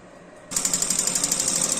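A sewing machine stitching a two-inch strip for a blouse starts abruptly and runs in a fast, steady, close mechanical rattle to the end.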